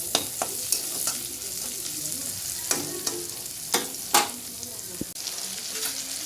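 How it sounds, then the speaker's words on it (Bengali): Chopped tomatoes fry steadily in a pan, with a constant crackling sizzle broken by several sharp clicks and scrapes as they are stirred. No one speaks. "টমেটো কুচিগুলো ভালো করে ভেজে"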